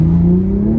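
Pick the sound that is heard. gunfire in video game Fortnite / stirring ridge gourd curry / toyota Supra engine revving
toyota Supra engine revving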